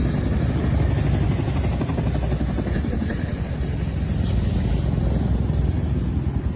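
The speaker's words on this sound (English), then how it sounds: "siguen las explosiones, se escuchan helicópteros" Military helicopters flying overhead at night during explosions in Caracas, a steady, loud, low rotor drone that fills the scene without pause, with no voices.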